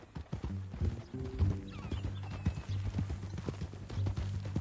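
Horse hooves clip-clop steadily in Red Dead Redemption, loud and close, over a constant low rumble with faint background game sound.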